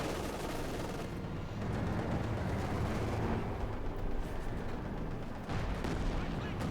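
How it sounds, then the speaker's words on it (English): Heavy tank cannon and machine-gun fire from a Panther engaging a T-34 in Company of Heroes 2 rumble as a dense, continuous battle din, with loud booms layered over constant explosions and a voice talking faintly underneath. "Panther shooting the T-45, almost got it."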